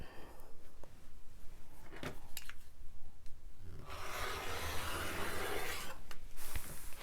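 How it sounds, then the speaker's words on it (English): Fabric being cut along a straight ruler during bias stripe binding, likely with a rotary cutter: a few sharp clicks of setting up, then a steady, close rasping cut running several seconds. "take my straight ruler and line it up so that it is square, 90 degrees up here, and cut"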